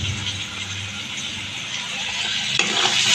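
Potatoes frying in a pan with salt and turmeric for a vegetable dish, a steady soft sizzle with occasional stirring rattles, rising briefly near the end as more goes in.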